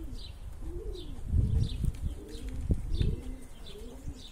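A pigeon with young coos softly and repeatedly while eating from a person's hand, the low rolling calls mixed with soft pecking and rustling nearby.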